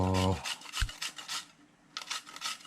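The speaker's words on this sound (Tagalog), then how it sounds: "Kaya dito na ka na lang siya ginagadgad." Green papaya being grated by hand on a grater for pickled atchara, a close, rough rasping in quick repeated strokes that pauses briefly and then resumes.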